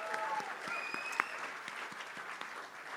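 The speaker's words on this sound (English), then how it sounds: "I just want to give them one more round of applause" A crowd at a live music awards gala applauds the band, dense sustained clapping with a few whistles and cheers, heard from within the room.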